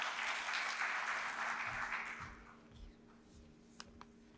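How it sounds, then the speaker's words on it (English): An audience at a logistics conference session applauds for a couple of seconds, then the clapping thins into a few scattered claps and light taps. "Please give her a big round of applause."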